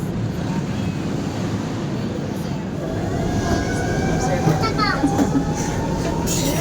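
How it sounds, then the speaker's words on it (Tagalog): Passenger train ride heard from inside the carriage: steady broadband rumble and rattle of the rolling car throughout, with faint tonal squeals near the end and people talking beneath the noise. "First time sa train."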